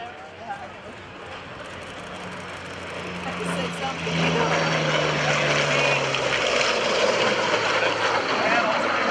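A Yak-9 propeller warplane's engine drone swells as it approaches and passes at an airshow, growing louder toward the end, with a voice talking over it.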